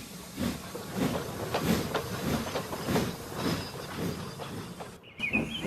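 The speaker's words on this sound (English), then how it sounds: "Meanwhile, Sandy was puffing along the main line." A steam train chuffs along in a steady rhythm, each puff a soft hissing burst, with a sharp cut near the end.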